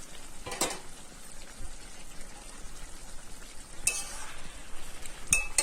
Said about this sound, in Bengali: এখন আবার নাড়াচাড়া দেওয়া হচ্ছে, কষানো হচ্ছে পুরোটাকে